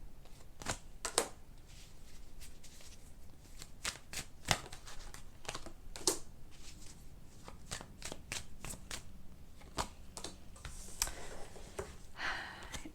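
Tarot guidance cards are shuffled by hand in a quiet room, giving a steady run of crisp riffles and sharp card snaps across the whole stretch, close and fairly soft, with no talk.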